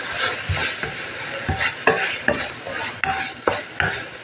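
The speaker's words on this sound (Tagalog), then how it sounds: "Ilalagay na natin itong ating pusit." Squid for adobong pusit goes into a hot pan with tomatoes and other sautéed ingredients, stirred with a utensil that scrapes and knocks against the pan in repeated strokes over a steady close sizzle, with no talking.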